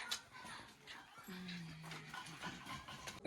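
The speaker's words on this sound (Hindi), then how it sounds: "यहाँ देखो डॉगी" A dog at a family home whimpers and yips softly, with a brief whine and panting, amid faint background chatter and movement.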